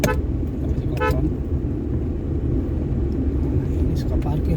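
Horn toots from a Mazda 323 climbing a winding uphill village road, a few short blasts near the start and around one second, heard over steady engine and road noise with people talking in the car.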